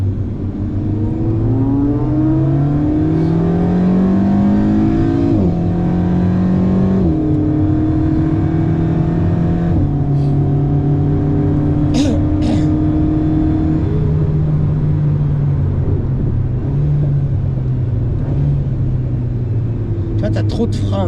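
A car accelerates gently on a race track during a track day, its engine note loud and close, climbing in pitch and dropping back with each gear change over a constant rumble.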